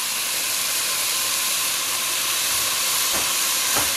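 Beef chorizo sizzles in a hot pan while chili is being made. It gives a steady, close, bright hiss with a couple of brief scraping knocks near the end and no talking.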